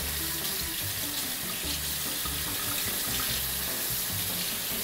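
A bathroom or kitchen tap runs steadily into a sink for hand washing, a continuous close broadband splash and hiss with no talking.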